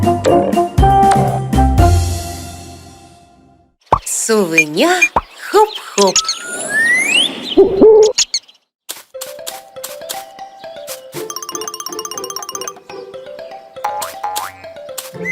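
Cartoon ball striking a toy pyramid and scattering it, heard as a bright boing and a burst of cartoon effects amid playful music, with a voice chattering briefly mid-clip.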